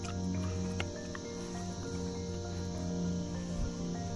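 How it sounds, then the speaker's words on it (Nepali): Hornets drone around a hive in North Sikkim, a layered, steady buzz with faint wingbeats passing near and away, quiet overall and with no speech. "अरिङ्गलै अरिङ्गल रहेछ"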